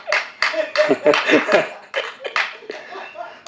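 An audience at a speech event bursts into scattered clapping mixed with laughter and chuckles, close and lively, with voices talking through the applause.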